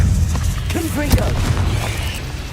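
A Confringo blasting spell bursts in Hogwarts Legacy, a single muffled boom inside a loud, busy mix of game sounds while a voice speaks over it.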